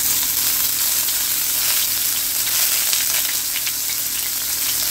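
Frozen green and red peppers with white onion, iced over, hitting a hot pan for a shrimp noodle stir fry, giving a loud dense spitting sizzle that holds evenly throughout, close up with no speech.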